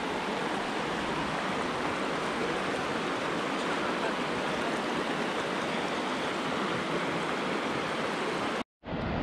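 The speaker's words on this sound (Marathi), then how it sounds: "आतापर्यंत फायर होल रिवर कशी शांत वाटत होती, आता मस्त खळखळत करते" The Firehole River rushes and babbles through its canyon, a steady loud broadband roar of fast water that continues unbroken until a brief dropout near the end.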